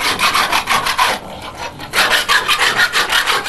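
A hand file rasps across a silver workpiece in a series of steady, rhythmic strokes, removing burrs from the back of a drilled piece; close and alone, with a brief pause midway.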